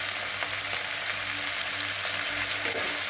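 Onions sizzling in hot oil with salt while chickpea ghugni is being made, a steady close frying hiss with faint stirring underneath.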